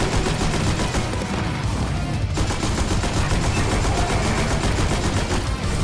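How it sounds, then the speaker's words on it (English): Rapid, loud bursts of machine gun fire in the Destiny video game, a Sepiks Perfected solo nightfall, fill the space with a dense, continuous rattle of shots and no pause. "Pretty accurate machine gun if I do say so myself."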